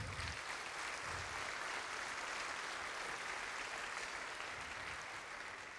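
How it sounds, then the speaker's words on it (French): Audience applauding after a talk at a hacking conference, a steady, even wash of clapping from a crowd that holds at a constant level and sounds somewhat distant and soft. "On peut l'applaudir, merci à ton soutien."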